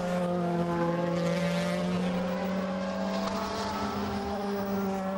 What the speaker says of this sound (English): The leading 2 Audis coming across the line.